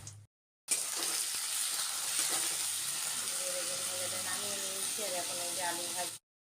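Brinjal sizzles steadily in hot oil in a kadai, a continuous crackling hiss with brief cut-outs at start and end and a faint voice surfacing briefly near the end.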